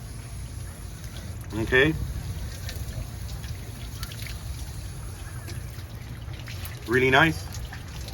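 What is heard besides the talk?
water rinsing a freshly gutted fish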